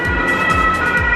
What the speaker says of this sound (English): As an ambulance goes past